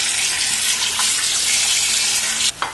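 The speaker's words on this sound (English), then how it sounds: "I just give them a rinse with cold water" Cold tap water gushes steadily while rinsing drained noodles in a colander, a loud continuous splashing rush that cuts off briefly near the end, close up with no voices.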